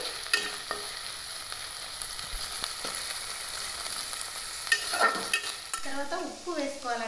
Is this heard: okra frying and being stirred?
yes